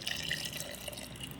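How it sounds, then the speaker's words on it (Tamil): Rice-washing rinse water from a washed mixer jar poured into a container for homemade garden fertilizer, a short, steady splashing pour, close and fairly quiet. "இந்த மிக்சியை கழுவி அந்த தண்ணியை இதில் ஊற்றிக்கலாம்."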